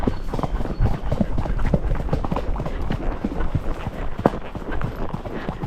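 Horse hooves clip-clopping on a summer trail ride, a steady rhythmic walk of close, fairly loud hoofbeats with faint rustling and no clear talk.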